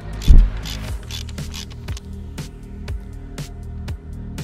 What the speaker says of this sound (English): So with a 24mm socket we'll remove the housing cover, which will reveal the filter to us.